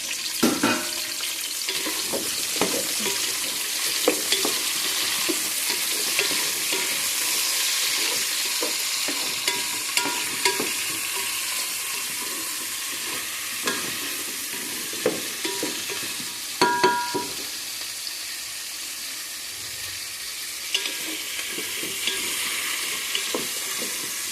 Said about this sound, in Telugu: ఆనియన్స్ వేసిన తర్వాత ఇలా వేపాలండి